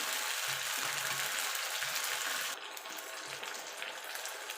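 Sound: spice masala frying in a pan for vegetable khichdi

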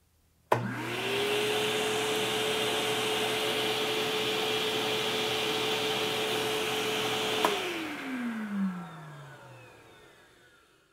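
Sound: DeWalt Stealthsonic wet dry vacuum running

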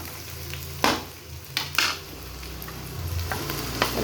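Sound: jute leaves being fried and stirred in a pan

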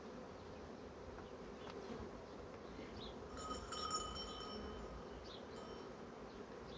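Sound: honey bee buzzing

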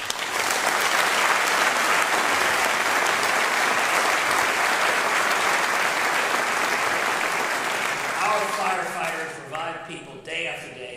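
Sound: applause

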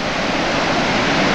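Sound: roaring waterfall in Husedalen valley, Norway

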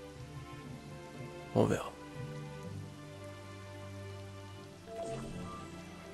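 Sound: rain in a video game

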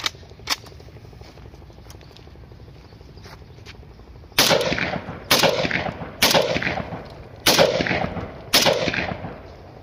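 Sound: test firing a .222 bore rifle, single shot

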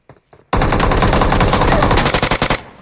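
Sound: gunfire from a video game

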